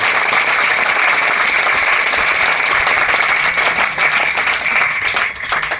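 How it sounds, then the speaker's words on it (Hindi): A crowd of children and elders at a sports gathering in India claps loudly and continuously, a dense steady roar of hands that holds for several seconds before easing slightly at the end. "दोनों हाथ खड़े करके एक बार तालियां इस बच्चे को।"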